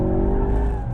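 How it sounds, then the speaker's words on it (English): A 2016 Ford Focus RS slides under power, its engine droning loud and steady with a low rumble and faint tyre scrub throughout the short burst. "you can really slide the car around quite nicely"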